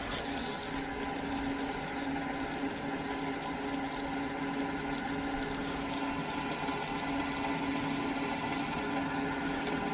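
Steady water rushing through a garden hose fed from a newly installed Aquor outdoor spigot, a continuous even flow heard close and alone for the whole stretch.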